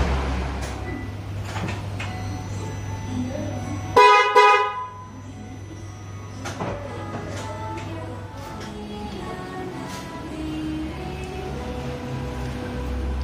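A single short car horn honk from a newly replaced horn on a Suzuki Splash sounds loud and close, surrounded by quiet clicks and tapping from someone working on the car.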